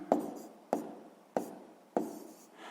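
Four evenly spaced taps of chalk or pen marking fractions on a board during a sixth-grade maths lesson, each a short sharp click followed by a brief scratch, close and clear against near silence.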